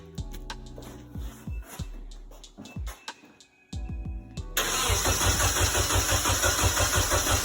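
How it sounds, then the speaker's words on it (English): A Nissan 240SX engine cranking in several short bursts with pauses, then catching and settling into a loud, steady, rough idle, close by. "if it starts smoking, then you gotta stop cranking."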